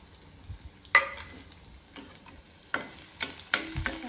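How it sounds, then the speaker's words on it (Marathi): Cumin and mustard seeds crackle in hot oil, a quiet close pan with a few separate sharp pops and short sizzling bursts set apart by near silence. "जिरे मोहरी अशी छान तडतडायला लागली आहे."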